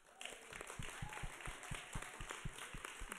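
Scattered church congregation applause, quiet and somewhat distant, with distinct individual claps falling in a loose, uneven rhythm over a soft room hiss.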